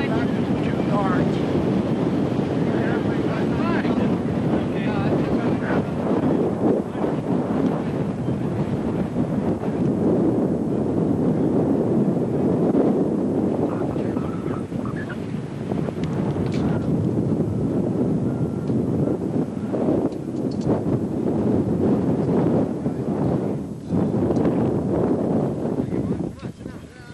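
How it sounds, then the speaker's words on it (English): Strong gusty wind buffets the microphone at a model aircraft flying field, a loud continuous roar with rumbling surges throughout, and people speaking intermittently underneath. "Steve and Sean, we got some wind and we did some flying"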